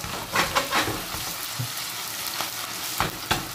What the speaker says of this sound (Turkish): Çok ısınmış yağın içine atıp şöyle biraz kızartacağım.